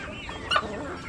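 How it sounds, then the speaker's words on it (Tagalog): A brief, sharp cluck from a chicken rises over a low background murmur of other fowl. "ang dami ng manok"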